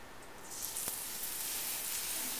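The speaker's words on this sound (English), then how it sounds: "You love that sizzle noise." Real butter, about a tablespoon, sizzling as it melts on a hot griddle set between medium and medium-high, a steady close hiss that swells after a brief onset and holds without talk.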